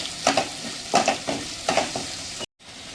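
Homemade red chili powder sizzles in a pan while being sautéed for Maharashtrian masale bhat, with a spoon scraping and stirring in regular strokes over a soft frying hiss, close up.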